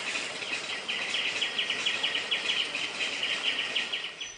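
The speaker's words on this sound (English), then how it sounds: "This is the call of the chestnut-crowned laughing thrush" Chestnut-crowned laughing thrush, Garrulax erythrocephalus, calling in a Laos rainforest, a run of rapid, fairly high repeated notes at moderate distance over a soft background hiss.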